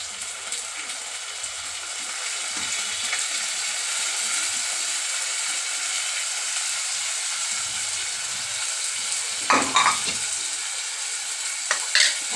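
Soaked red lentils hitting hot oil in a pan, a steady, close hissing sizzle that runs throughout, with a few clattering stirs of a spoon near the end.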